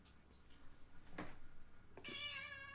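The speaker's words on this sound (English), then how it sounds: "Wait, that was a cat?" A single cat meow with clear harmonic tones rises near the end, after a brief soft noise burst, in a fairly quiet setting.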